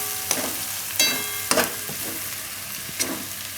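Spices with Kashmiri chilli are stirred in a pan for a paneer and corn curry, with a steady low sizzle broken by four sharp spatula scrapes against the metal at irregular intervals, close and clear.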